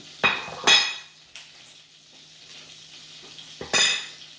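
Close sizzling bursts from a pan of dredged chicken frying in hot, popping oil, with clinks of utensils and stirring between the loud spurts of frying.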